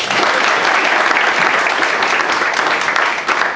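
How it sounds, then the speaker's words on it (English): Guests at an interfaith dinner give a warm round of applause, dense and steady clapping from a sizeable room that holds at full strength throughout and eases slightly at the close. "Can we give one more round of applause"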